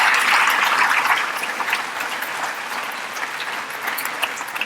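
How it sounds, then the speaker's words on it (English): An audience at a distinguished alumni award ceremony gives award recipients a round of applause, loud dense clapping at first that eases slightly but carries on to the end. "Let's give them one more round of applause before we exit today."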